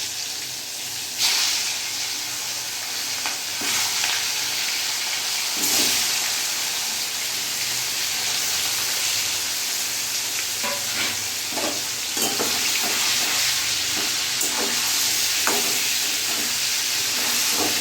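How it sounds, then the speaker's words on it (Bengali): Chicken pieces coated in salt, turmeric and Kashmiri chilli powder fry steadily in a kadai, a continuous close sizzle with occasional stirring scrapes and pops throughout, no voices. "ভালো করে চিকেনটা আমি একটু ভেজে নেবো"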